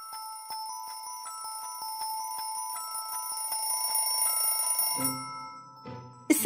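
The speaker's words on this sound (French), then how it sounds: "Et voici un réveil." Cartoon alarm clock ringing in a children's animated show: a bright, rapid metallic bell trill held for several seconds, then breaking off into a few lower clattering sounds.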